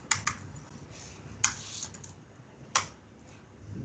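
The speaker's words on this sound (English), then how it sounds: "Pressures of typing while everybody is watching." Keys on a computer keyboard being typed during a live software demo, a few sharp clicks spaced out over a quiet background, close and light, with no talk.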